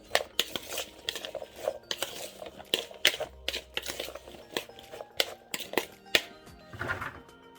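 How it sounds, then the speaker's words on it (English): Utensil clinks and scrapes against a dish while seasoned chicken is stirred with pepper and oil, a quick irregular series of close, light taps and clatter with no talking over it. "you just want to stir"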